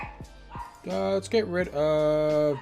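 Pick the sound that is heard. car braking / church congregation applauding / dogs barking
dogs barking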